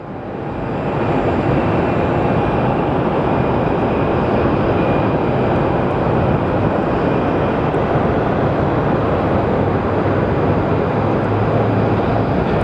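American Airlines flight 550 departing the airport, a steady loud jet engine roar that swells in over the first second and then holds constant and close throughout.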